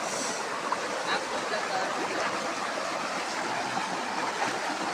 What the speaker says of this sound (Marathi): तिथं पायथ्याशी एक मस्तपैकी नदी आहे